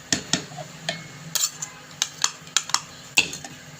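A metal spoon stirs a pot of milk and blended rice for phirni, scraping and clinking against the sides in a steady string of sharp, close taps with no talking.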